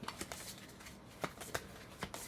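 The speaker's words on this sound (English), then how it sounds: "Let's shuffle in a couple more cards for MarsBot." Playing cards for the board game Terraforming Mars being shuffled, with several quick riffling bursts and soft rustles spread across a couple of seconds, close and moderately quiet.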